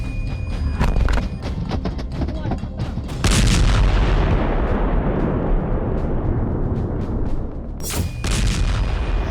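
Artillery and missile fire strikes Russian positions in Bakhmut, with a series of heavy booming blasts and sharp cracks, followed by a long rumbling roar and another burst near the end.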